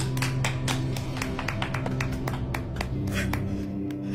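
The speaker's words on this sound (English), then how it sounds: "Everyone, give a round of applause for the most overused pet name of all" Scattered hand clapping from a small group in a home, a quick, uneven patter of sharp claps running steadily throughout with no talking.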